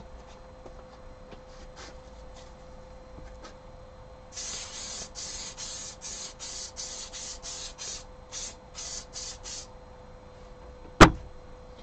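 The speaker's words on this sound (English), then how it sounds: "some of the spray mount onto the back of this." Spray mount adhesive is sprayed from an aerosol can onto the back of a denim jacket in a run of short, quiet hissing bursts, followed by a single sharp knock.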